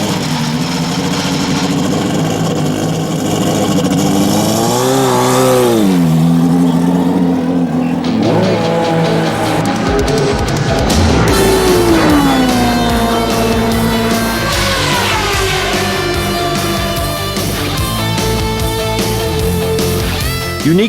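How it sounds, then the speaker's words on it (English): A Mercedes-Benz powered racing car for the 1994 Indianapolis 500 runs during practice, its loud engine rising and falling through gear changes and revs in sweeping pitch glides, strong and close, with no speech. "Al Unser Jr., Emerson Fittipaldi, and Paul Tracy are the drivers fine-tuning the new racing car"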